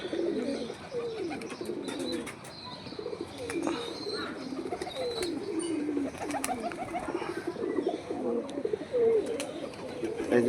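Pigeons in a rooftop loft keep up a continuous chorus of low, overlapping coos close by, with occasional chirps and brief wing flaps.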